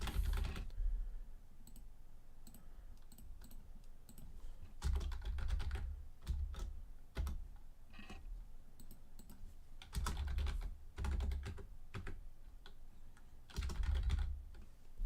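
Steady clacking of computer keyboard typing in bursts, with short pauses between flurries of keystrokes, fairly close and moderately quiet.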